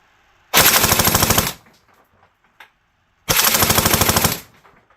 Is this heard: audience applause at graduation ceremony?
no